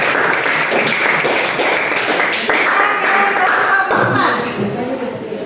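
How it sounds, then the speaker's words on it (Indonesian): A classroom audience applauds a student group, a loud, dense burst of many hands clapping that keeps going steadily and then thins out slightly near the end. "Berikan aplaus lagi untuk kelompok 3"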